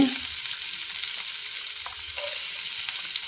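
Cumin, garlic-ginger paste and onion frying in a pan, a dense steady hiss and crackle up close with a few faint stirring touches, no talk.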